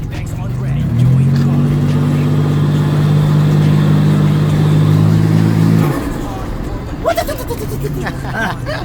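A Datsun 280Z Fairlady Z engine revs loudly and holds a high, steady drone, then drops back to a rough idle, with voices faintly in the background.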